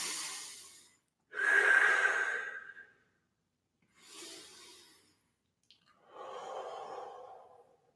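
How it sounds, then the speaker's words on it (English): Four slow, deep breaths during a guided meditation, close and fairly soft: long airy inhales and exhales separated by short pauses, with no talking. "take a few deep breaths with me, breathing in light from above the crown into the heart"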